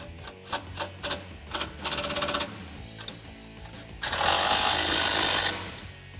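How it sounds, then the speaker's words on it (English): A power impact tool tightens lock nuts on a 2014-2018 Silverado 1500 HD front bumper bracket with a 19mm socket, first in short rattling bursts, then in one long, loud burst, close by with no talking. "Grab your 19mm socket and tighten those down."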